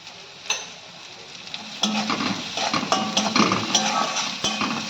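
Spices for a Bengali sim posto (flat beans with poppy seed) sizzle in oil while a spatula scrapes and stirs the pan, with clinks and scrapes growing busier partway through, close and moderately loud.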